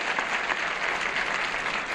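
A studio audience on a television game show claps in a continuous, even wash of applause, loud and close, with no voices standing out.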